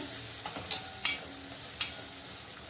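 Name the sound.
chopped tomato being sautéed in a pan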